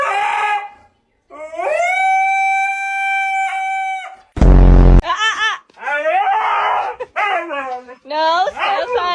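A heavy dog of about 60 pounds, indoors at bedtime, gives long wavering howls and yowling whines in several bursts, loud and close, broken by a short sharp thump or bark.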